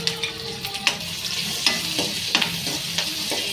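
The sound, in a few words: green chillies and ginger frying in oil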